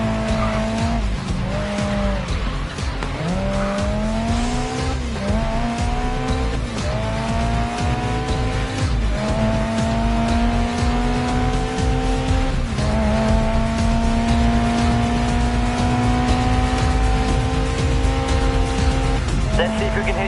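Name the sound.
car sliding through a corner with handbrake in Grid Legends video game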